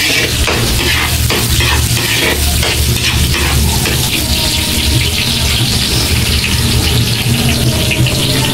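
Food sizzles and crackles loudly in hot oil, a dense continuous frying hiss with some stirring scrapes, close up and steady throughout.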